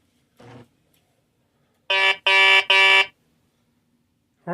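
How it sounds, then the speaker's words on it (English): A toy slot car train's horn blares in three loud, close electronic honks in quick succession, following a brief softer tone, in a room with no talk. "horn sounds kind of sick."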